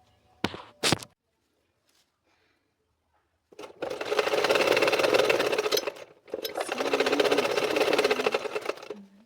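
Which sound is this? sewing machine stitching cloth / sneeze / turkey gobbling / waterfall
sewing machine stitching cloth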